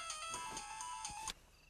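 A phone rings late at night in a Hindi action movie: an electronic ringtone with steady harmonic tones and a repeating pulse, loud and close, cutting off abruptly after about a second and a half, with no talking.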